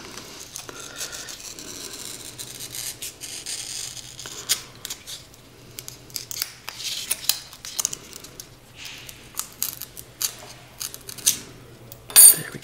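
A blade cuts a bevel into foam board for a model airplane rudder, producing faint scratchy slicing and crinkling noises with occasional small clicks and taps, close but quiet, without talking.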